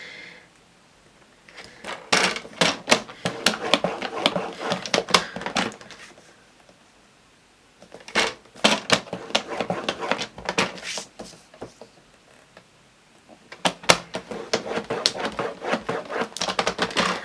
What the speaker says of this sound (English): Then we're going to score at 5 3/4 inches.